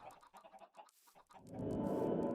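Chickens in a video game cluck in a burst of short, choppy calls, then give way to a louder, steady wash of noise.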